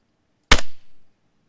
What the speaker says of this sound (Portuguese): Eu vou dar um tiro pra ele voltar